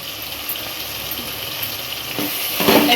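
Curry leaves go into a pan of simmering traditional village-style fish curry with tomato: a low, steady bubbling hiss, then a sharper crackling spatter near the end.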